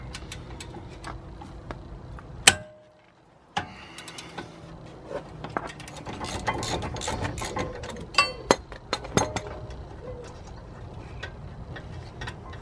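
Ratchet working on the 18mm caliper bracket bolts of a BMW 1 Series front brake, with scattered clicks, metallic clunks and taps over background noise and a brief near-silent gap early on.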